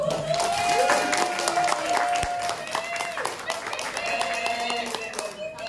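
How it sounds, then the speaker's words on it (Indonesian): Seated audience at a school training session clapping in a continuous patter of applause, moderately loud, while a voice talks and a tone rings over the clapping. "berikan tepuk tangan ya"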